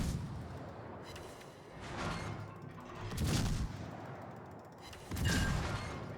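Gun salvos from the Tier IX British cruiser HMS Neptune in the naval game World of Warships, several heavy booming blasts in quick succession with rumbling battle noise between them, no talk.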